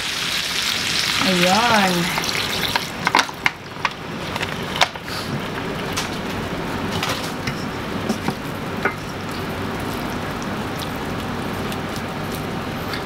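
Chicken stock poured into a hot pan of peppery litson paksiw sets off a loud, close, hissing sizzle with bubbling, then settles into a steady simmering crackle; a voice speaks briefly over it.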